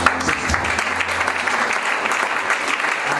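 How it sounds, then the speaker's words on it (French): A church congregation claps for a visiting evangelist, sustained dense applause filling the room at close range with no break. "est-ce que vous pouvez acclamer pour l'évangéliste Stan?"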